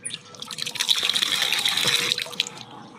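Water is poured into an egg incubator: a close, steady gushing pour that builds quickly and runs for a few seconds before tapering off.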